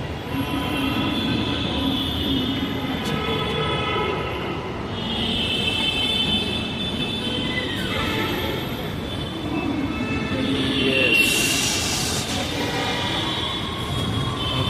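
A metro train at the Old Madras metro station in Bangalore rumbles steadily through a long passage, with wheel squeal and high rail whine rising and falling over the continuous roar and no voices.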